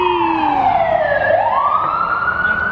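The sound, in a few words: emergency vehicle siren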